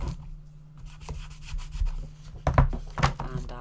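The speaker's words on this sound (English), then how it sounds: "give it a rub down." Paper piece being rubbed down by hand onto a Stampin' Up cake-shaped box, a soft close scuffing with a few firmer rubbing strokes near the end.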